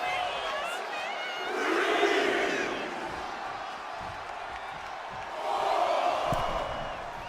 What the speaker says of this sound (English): This capacity crowd is sending him love, and he's sending it right back.